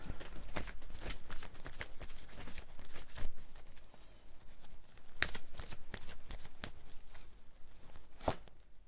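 A deck of oracle cards is shuffled close up and quietly, giving bursts of riffling and sliding cards with brief pauses between them. Nobody speaks.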